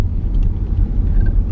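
Inside a car not built for rough roads, driving over a dirt road on the way to Scream-A-Geddon in Dade City, Florida: a loud, steady low rumble and road drone, no talking.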